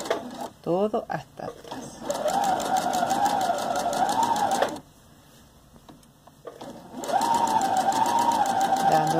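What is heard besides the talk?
sewing machine stitching fabric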